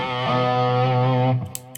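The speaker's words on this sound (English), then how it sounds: "you might put some fuzz on the top for a lead sound" An electric guitar lead runs through a fuzz pedal, giving a loud, saturated note that slides up slightly and sustains for over a second before it cuts off abruptly.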